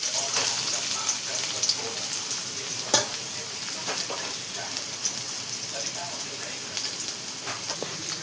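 Two chopped onions frying with cumin seeds in a kadhai, giving a constant close sizzle with stirring scrapes and a sharp clack near the start, no voices.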